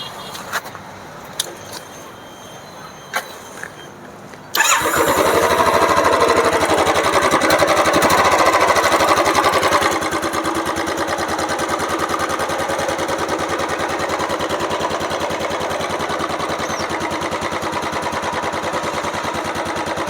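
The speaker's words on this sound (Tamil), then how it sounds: "வண்டி எப்படி இருக்குதுன்னு சொல்லி ஸ்டார்ட் பண்ணி காட்டுறேன் பாருங்கள்" A Royal Enfield Classic 350 BS6 motorcycle starts after a few quiet clicks, catching at once and settling into a loud, steady thumping idle that rises briefly before easing to an even, continuous beat.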